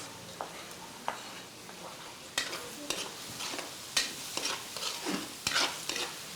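Onions fry in a pan for a Filipino dish, with a soft steady sizzle under repeated scraping strokes of a utensil stirring them, close and fairly quiet, no talking.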